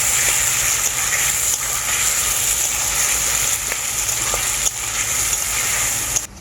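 Teasel gourd (kakrol) fries with spice paste in a pan, a dense, continuous sizzle broken by a few soft knocks of a spoon, steady and close throughout.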